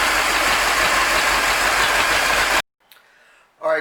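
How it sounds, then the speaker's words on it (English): A Bayliner boat engine runs loud and close at a rough idle for a few seconds, then cuts off abruptly, leaving faint shuffling before a brief loud burst at the end. "He's running. A little bit of a rough idle"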